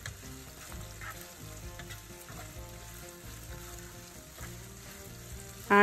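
Okra being stir-fried in a pan, a steady close sizzle with intermittent scraping and stirring, rural home-style cooking, no talk.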